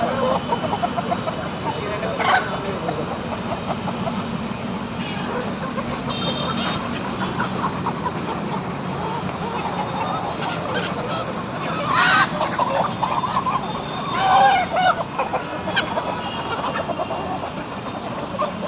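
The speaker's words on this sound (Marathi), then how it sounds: "भरपूर प्रकारच्या कोंबड्या इथं गावरान कोंबड्या" Native country chickens and roosters on a farm near Hinjewadi road, clucking and crowing steadily throughout amid constant background noise, with occasional louder calls standing out.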